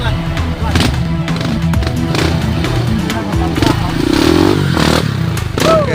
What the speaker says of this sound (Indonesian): Motor custom, motor modification masuk jalur.